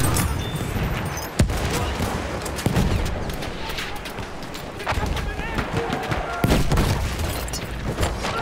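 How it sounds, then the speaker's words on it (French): Enemy machine gun fire rattles across a Battlefield 1 battle at Fort de Vaux, with bursts and distant booms under shouting soldiers' voices throughout. "J'ai repéré une mitrailleuse!"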